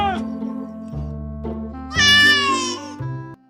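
A cat meows several times in a row, up close and loud, with short nasal calls leading into one longer, rising and falling wail near the end.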